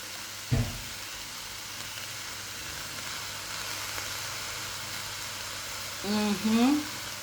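Cabbage with chili stock stirred in a pan, giving a steady, faint sizzling hiss that runs throughout, with a brief clatter near the start and a voice speaking near the end.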